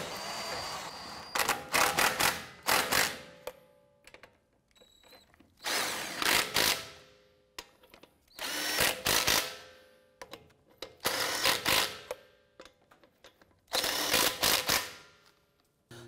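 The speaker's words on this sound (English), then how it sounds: "Let's go ahead and snug these lug nuts down." Lug nuts on a Ram 1500 pickup wheel being snugged down with a power tool, five loud separate bursts of whirring and ratcheting hammering, each a second or two long with brief quiet gaps between them.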